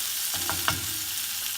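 Onions sautéing in a pan give off a continuous soft sizzle with a few stirring scrapes, while a person speaks briefly over the frying.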